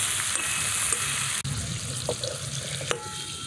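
Rohu fish paturi wrapped in pumpkin leaves frying in a wok, a steady close sizzle with light stirring clatter and a couple of sharp knocks, no voices.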